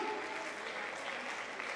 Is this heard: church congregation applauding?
yes